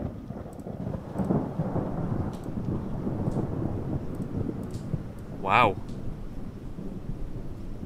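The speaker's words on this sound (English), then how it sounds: "So it's raining." Rain falls steadily in the Project Zomboid survival game, a constant hiss with thunder rumbling beneath and a brief louder crack partway through, while a voice exclaims briefly.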